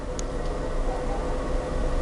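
A tram rumbles past at close range on a rainy city square in Lviv, a steady low mechanical roar with faint rattling, continuous throughout.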